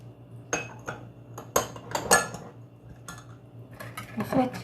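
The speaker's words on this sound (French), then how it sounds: "Donc je mélange les ingrédients." A utensil scrapes and clinks against a bowl while pizza dough ingredients of sugar, yeast and yogurt are stirred together, in irregular close bursts over a faint kitchen hum.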